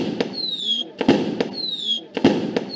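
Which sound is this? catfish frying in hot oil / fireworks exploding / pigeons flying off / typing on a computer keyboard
fireworks exploding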